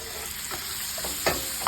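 Anchovies being turned and fried in a pan with little oil give a steady low sizzle, broken by a few soft scraping stir sounds.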